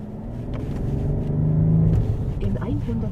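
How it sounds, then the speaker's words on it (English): Mercedes S 450 diesel engine accelerating, a steady low rumble with a rising tonal drone that swells midway, and a voice briefly heard near the end. "not even a full acceleration, and you still have an aggressive sound from the diesel and amazing torque"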